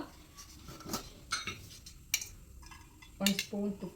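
A metal spoon clinks and taps against a pot as ghee is added for a sambar tadka in a home kitchen, making a few faint, scattered chinks and a short scrape at a low level.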